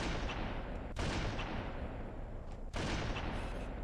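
Sniper rifle fire in the shooter game Halo: Combat Evolved, two sharp heavy shots roughly two seconds apart, each followed by a loud sustained boom filling the clip, with no talk.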